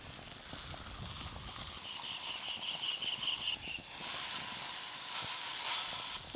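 A palm-fruit patishapta pitha cooks in an oiled pan, giving off a soft, steady sizzle and hiss that swells slightly partway through.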